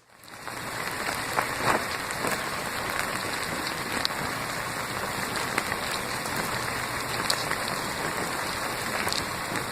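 Ten thousand mealworms crawl and rustle together, making a dense, steady, fine crackling hiss much like light rain, continuous and even for about ten seconds with no voices.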